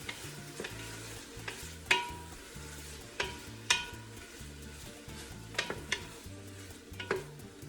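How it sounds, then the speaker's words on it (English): Soup stirred in a cooking pot with a utensil, producing repeated scraping and clinking strokes every second or so over a low steady simmering bubble, close and fairly clear, with no talking. "You gotta stir it every once in a while so it doesn't stick to the bottom of your pot"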